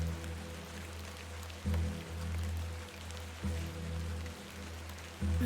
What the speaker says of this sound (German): der Regen ist gerade ziemlich extrem, typisch englisches Wetter